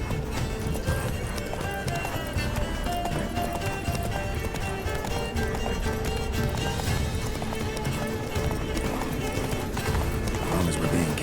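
Roach the horse galloping in The Witcher 3, a continuous rapid clip-clop of hooves under busy game sound, steady and fairly loud, with occasional whinnying.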